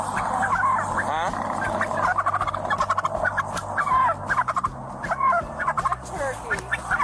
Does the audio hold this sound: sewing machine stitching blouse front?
no